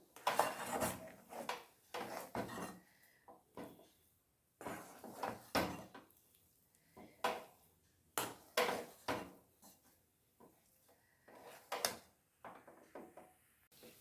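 Semolina halwa cooked with ghee and milk is stirred in a pan, giving a string of scraping, clinking spoon-on-metal strokes in short irregular bursts with pauses between them, close and fairly quiet.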